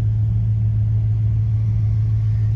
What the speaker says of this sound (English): hope you enjoyed this little brief drive of this Continental